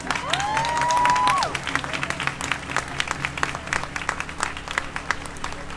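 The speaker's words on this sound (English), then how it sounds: "Let's give Dorian another round of applause." Crowd applause at an outdoor justice solidarity rally in Minneapolis, steady dense clapping with some cheering, and a rising-and-falling siren or whistle tone cutting through early on.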